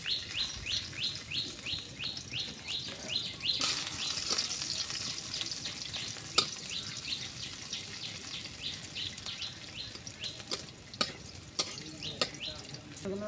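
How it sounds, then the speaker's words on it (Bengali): Onions and vegetables fry in oil with a soft, continuous sizzle and occasional sharp crackles, while birds chirp repeatedly in the background. "আমি পেঁয়াজ দিলাম সাথে তেল দিতেছি"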